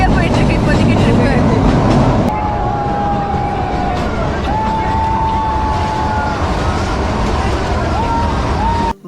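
The Kalka–Shimla toy train rumbles loudly and steadily through a long tunnel near Shimla, with a roar that drops partway through as wheels squeal and screech at intervals, and voices carry over the din.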